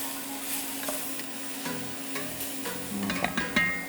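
Broccoli florets sizzle quietly in a hot pan while being stirred, with soft scraping and ticking utensil sounds rising toward the end, no talking.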